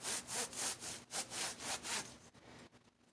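A terry cloth scrubs excess powder coating off a copper mesh basket in quick rhythmic back-and-forth rubbing strokes, close and quiet, about eight strokes before fading into a few softer rubs.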